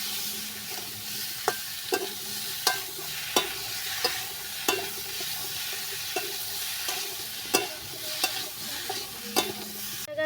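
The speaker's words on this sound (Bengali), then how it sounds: "জিরে বাটা, দিয়ে আমি আরেকটু ভালো করে ভেজে নেব।" Green chili and cumin paste frying in a pan, a steady close sizzle broken by repeated sharp scrapes and clacks of a spatula stirring, roughly every second, with no talking.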